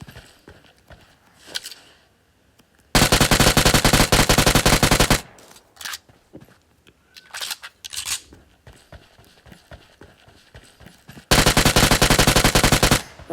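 Video game gunfire as an enemy is shot: two long bursts of rapid automatic fire, loud and close, separated by quieter stretches of footsteps and movement, with no talking.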